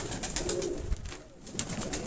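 Pigeons cooing in a Mykolaiv pigeon loft, soft repeated coos close by, with faint chirps and shuffling mixed in.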